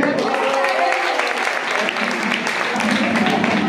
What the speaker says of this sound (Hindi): तालियों से उनका स्वागत कीजिए